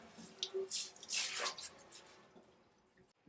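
Water bursts in short, hissing spurts from a commercial faucet sprayer, several uneven splashy pulses close by that trail off into quiet.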